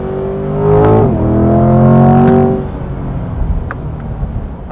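A 2024 Chevrolet Corvette C8 Stingray engine revs hard through the gears, a loud, rising V8 roar that climbs twice, then drops away to a quieter rumble with crackles.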